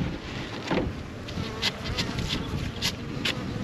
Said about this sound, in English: there's plenty of bees in here. They're flying, bringing pollen in.